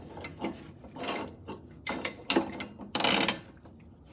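A wrench turns a bolt on an FJ60 during an EGR pipe install, with irregular metallic clicks and scraping ratchet-like bursts a quarter turn at a time, close and fairly loud with no talk.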